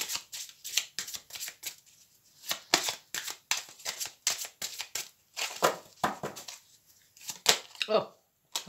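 Tarot cards being shuffled and handled in close, quiet crisp bursts of riffling and sliding, with soft pauses between; a voice speaks at times alongside.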